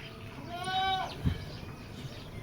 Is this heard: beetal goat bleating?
yes